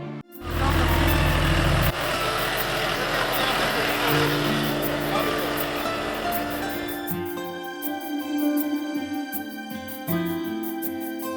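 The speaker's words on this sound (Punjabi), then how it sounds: "ਸਭ ਤੋਂ ਪਹਿਲਾਂ ਤੁਹਾਨੂੰ ਬਿਨਾਂ ਡਰਾਈਵਰ ਵਾਲੇ ਇਸ ਟਰੈਕਟਰ ਦੇ ਦਰਸ਼ਨ ਕਰਵਾ ਦਈਏ" A driverless tractor built by Punjab Agricultural University in Ludhiana runs nearby in a farm field, its engine droning loud and steady at first, then settling into a lower, rougher rumble with mechanical clatter.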